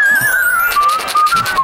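A single clear whistle holds a wavering tone, drops slightly in pitch, then continues in short sustained notes.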